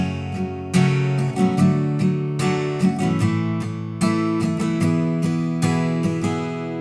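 Guitar strumming the opening chord progression of a song, a steady strumming pattern with crisp attacks and distinct chord changes, played alone and up close with no voices.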